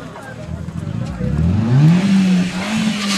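Old banger race car at a field banger meeting, engine revving up with a rising loud tone over outdoor background noise, close by.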